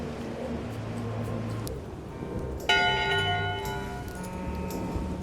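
A single bell in Return to Monkey Island rings for voting hour, one clear metallic strike with a ringing tone that fades slowly over a steady low ambient game soundtrack.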